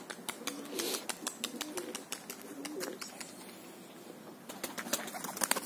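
Young Fantom pigeons coo in soft low bursts amid repeated sharp wing flaps and claps, close by and fairly loud, with no talk.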